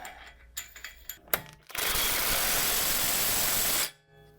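A Jeep axle nut being tightened during an inner axle seal job: a few sharp ratchet clicks, then a loud, continuous mechanical whir for about two seconds before it cuts off, close up.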